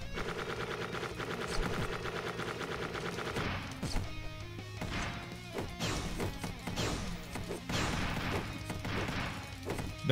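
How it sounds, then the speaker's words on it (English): Bombs blasting an enemy in the 2D roguelite game Dungreed, a loud, busy run of crashing, rapid-fire impacts and thuds layered over steady game music. "The bombs is hitting him too."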